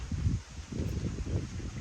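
Wind gusts through date palm trees at a desert oasis in Saudi Arabia, soft and low with a faint rustle that comes in two or three waves.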